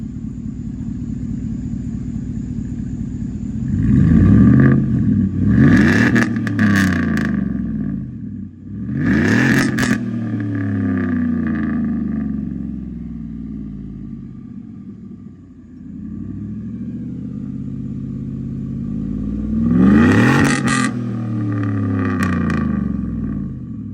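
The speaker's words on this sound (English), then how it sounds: "go ahead and rev it" A straight-piped 2016 Chevrolet Silverado with a 5.3 V8 and no catalytic converters, muffler or resonator idles with a deep, loud rumble, broken by several sharp revs and one later double rev, recorded close up outdoors.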